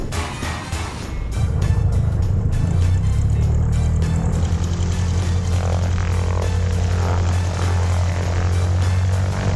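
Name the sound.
warbird aircraft taxiing to hangar, from a video game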